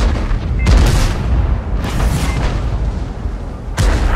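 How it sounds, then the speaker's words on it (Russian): Tank cannon shots in a video game boom out three times at irregular intervals, each a sharp loud blast trailing into a rumbling decay over a steady low engine drone. "Орудие готово к стрельбе."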